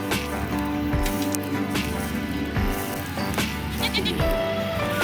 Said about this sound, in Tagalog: may mga nakasuga pang kambing